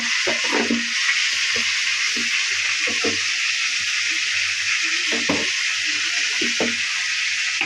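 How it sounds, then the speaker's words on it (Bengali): Ginger and garlic paste fries in a hot pan with a loud, steady broadband sizzle that runs throughout, close up. Intermittent scraping stir knocks and soft voices talk underneath. "আদা রসুন দিয়ে দিচ্ছে, একটু ভাজে নেবে।"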